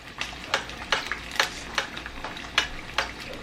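Fish fries in oil in a pan over medium heat, giving a soft continuous sizzle broken by regular sharp clicks and taps, close and moderately loud, with no voices.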